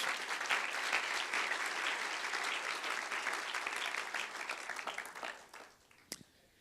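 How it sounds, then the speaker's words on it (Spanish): A church congregation applauds during a sermon, with dense, steady clapping that carries on for several seconds before thinning out and ending in a sharp knock. "Le da un aplauso al Rey en esta hora, hermanos."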